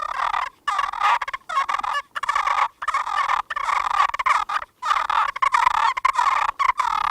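Rapid, raucous gobbling and cackling bursts from a Triple T's turkey call, mimicking two toms fighting, loud and close with short breaks between flurries.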